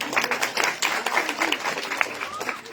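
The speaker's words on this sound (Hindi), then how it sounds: "ताली बजा दो इसके लिए।" A small group claps for a person, producing steady, dense, fairly close applause over about three seconds, with a voice faintly present beneath it.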